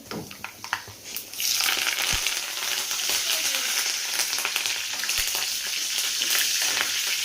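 A few light taps, then a sudden loud burst of sizzling as curry leaves hit hot oil in which a spice paste was roasted, crackling steadily and close up.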